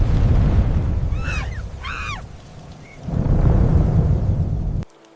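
Heavy rain and a thunderstorm rumble loudly over open wild land, with a steady low roar and a couple of high, sweeping tones in the middle before the sound cuts off abruptly near the end.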